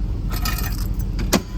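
Spare keys jangle inside a 1957 Chevy convertible, a bright close metallic rattle lasting about a second with a sharper clink near the end, over a steady low idle hum.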